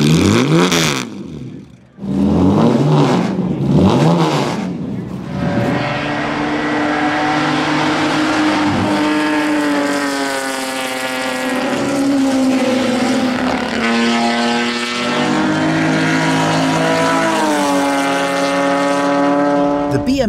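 A powerful Aston Martin Zagato sports car engine revs hard and climbs through rising gears, each pull sweeping upward in pitch, loud and close with brief shifts between.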